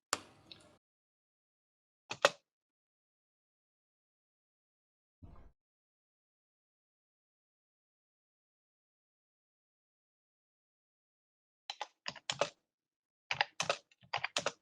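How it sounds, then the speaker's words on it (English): Typing on a computer keyboard comes as short bursts of close, quiet key clicks separated by long silences, with a flurry of rapid keystrokes near the end. "I'm not still done typing."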